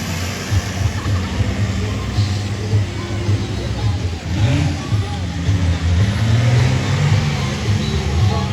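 A heavy monster truck engine roars and revs in uneven surges at a festival, loud and close, with a voice talking over it.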